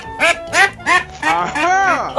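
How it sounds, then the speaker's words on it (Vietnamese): A duck caught in a rural field gives a string of about five loud, nasal quacks, close and harsh, the last ones longer and more drawn out. "Bắt được một con vịt của Trang ơi."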